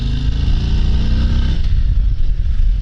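A Harley-Davidson Road Glide Special with the 114 engine rumbles loudly and close, its deep idle swelling into a short rev and then settling back.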